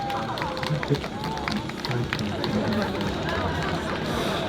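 An audience at a Magic Palace magic show gives a steady round of applause, with crowd murmur running through it at an even, sustained level.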